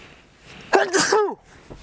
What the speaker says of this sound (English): I have to sneeze in maybe a minute.